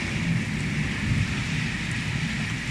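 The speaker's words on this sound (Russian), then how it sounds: "Но это ветер дует." A wind and rain storm blowing with a constant broadband rush, steady and moderately loud, and no voices over it.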